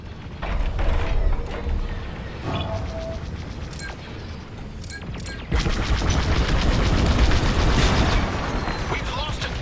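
A dish explodes in Star Wars Squadrons during space combat: heavy rumbling booms and crackling blasts roll over a constant mechanical drone, then a bigger, louder burst hits about halfway and keeps roaring to the end.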